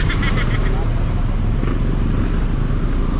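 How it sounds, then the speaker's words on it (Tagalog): A motorcycle squeezing through congested road traffic, engines and traffic rumble loud and constant, with a voice talking over it. "Ito naman isang motor, gumawa na lang siya ng paraan para makalusot siya."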